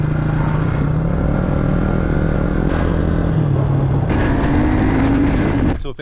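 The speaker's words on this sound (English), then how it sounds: "this is a 1995 Suzuki Quadrunner 4-wheel drive. It has a 250cc engine" A 1995 Suzuki QuadRunner 4x4 ATV's 250cc engine revs and rumbles up close, its pitch rising and falling in surges before cutting off abruptly at the end.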